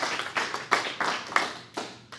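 Small audience clapping in a few scattered, uneven bursts at an indoor community talk, moderately close and brief, with no voices over it.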